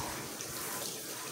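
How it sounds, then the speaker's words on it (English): Gentle stream of water rinsing shampoo from a dog's coat during a bath, a steady, even broadband wash of flowing water throughout with no talk. "stream of water is actually removing it without difficulty."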